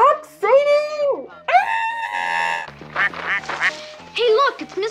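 A duck in a 1970s children's film quacks loudly in repeated, strained calls while trying to run away, with an upbeat song or voices mixed in around it.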